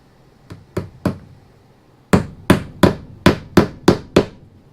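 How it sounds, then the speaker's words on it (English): Sharp hammer strikes driving wire staples into wood to hold electrical wiring: three spaced blows, a short pause, then seven evenly paced, louder taps close by. "you're going to hammer it on just like this"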